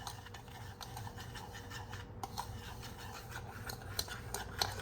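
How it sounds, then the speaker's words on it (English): A whisk scrapes and rubs through muffin batter from a Cinnabon muffin kit in a smallish bowl, in quick, steady strokes repeating close by over a constant low background hum. "you should be whisking for about maybe 15 seconds max"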